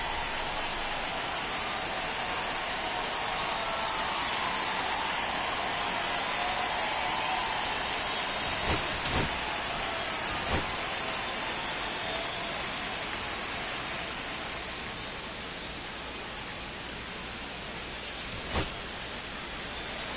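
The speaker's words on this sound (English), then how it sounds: "This rain is not letting up." Steady rain falling over a baseball stadium during a ballgame in MLB The Show 25, with a broad constant hiss throughout and a few brief clicks and taps on top, while no one speaks.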